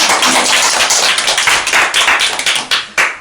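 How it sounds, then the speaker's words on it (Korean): Audience at a church lecture clapping to welcome a woman coming up for a quiz segment, a dense, loud burst of many hands clapping that thins toward the end, with no talk over it. "우리 이영주 님이 나오실 때 힘찬 박수 부탁드립니다"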